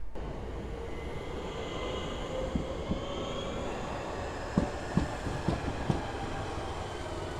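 A train at Elmers End station in Bromley rumbles steadily close by, a continuous low roar with occasional rail clicks and thumps from the wheels.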